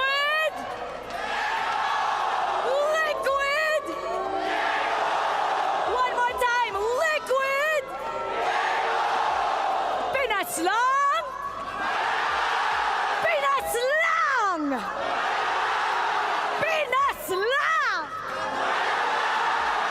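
A packed esports arena crowd at a Mobile Legends event cheers and roars in loud, sustained waves, with whoops and shouts rising over the din and an announcer's voice cutting through at times.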